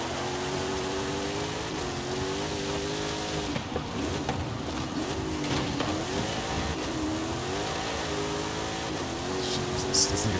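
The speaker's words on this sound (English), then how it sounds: "This thing accelerates out of corners so quickly" A car's engine accelerating out of corners in Forza Horizon 5 off-road driving, a steady, rising and falling engine drone at a moderate level, with a brief louder burst at the very end.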